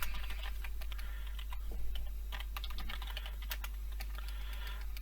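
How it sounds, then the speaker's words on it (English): Fingers type on a computer keyboard in quick, irregular bursts of light clicks and taps, close and fairly quiet over a low steady hum. "I just need to type a brief message in here as well."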